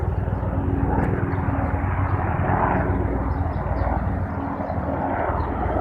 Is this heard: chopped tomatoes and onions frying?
no